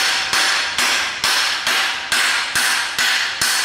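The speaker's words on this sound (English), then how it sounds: "there's a bolt that goes through the bottom of the alternator. We gotta pound that out" Eight hard metallic hammer blows land in a steady rhythm, close and loud, driving a rusty bolt out of the bottom of an alternator on a B17 GSR engine being torn down.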